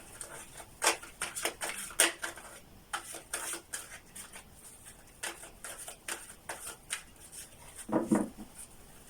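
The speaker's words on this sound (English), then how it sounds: "Let's first start with shuffling the cards." Playing cards being shuffled and handled, a scatter of sharp, crisp flicks and taps at an uneven pace, close by and soft, with a slightly heavier clatter near the end.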